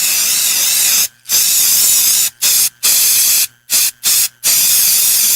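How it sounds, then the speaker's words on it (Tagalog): Baygon Shield Defense insecticide spray from an aerosol can: loud, close hissing bursts of varying length, five or six sprays separated by short silences, with no talk. "Humana ko i-spray direkta sa lamok, langaw ug ukok"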